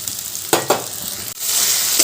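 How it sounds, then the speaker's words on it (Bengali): Ginger, green chili, tomato and ground spice paste fry in oil in a pan, a loud close sizzle broken by a couple of sharp stirring scrapes and a brief dip before the hiss swells again. "এবার সব কিছু ভালো করে কষিয়ে নেব যতক্ষণ না তেল ছাড়ছে ততক্ষণ ভালো করে কষাতে হবে"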